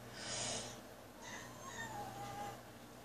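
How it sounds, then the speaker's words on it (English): A pet cat meows several times at close range, drawn-out plaintive cries that rise and fall against a quiet indoor background. "My cat wants its mom."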